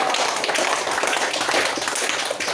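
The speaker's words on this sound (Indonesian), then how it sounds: "beri tepuk tangan untuk Rogo" A class of schoolchildren clapping for a classmate, dense and steady applause lasting a couple of seconds.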